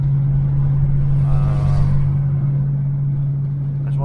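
A Chevrolet Avalanche truck cruises along with no trailer, a steady engine drone and road rumble inside the cab, a brief lift in revs partway through.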